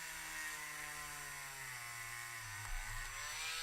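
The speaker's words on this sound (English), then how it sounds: "We're gonna drill these holes as well on the other one." A power drill whines steadily while boring holes in a toy figure, the motor pitch dipping and rising as it bites into the plastic, heard close and alone.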